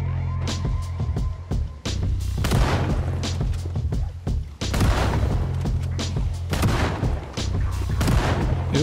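Shotgun fire in the zombie survival game Project Zomboid: several heavy, booming blasts spaced a second or two apart, each followed by a brief decay, loud and close.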